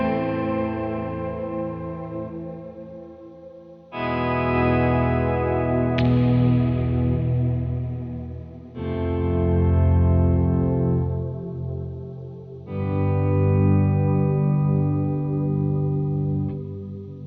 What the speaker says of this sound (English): It is a polyphony and black hole together. So it's a pitch algorithm with a black hole reverb.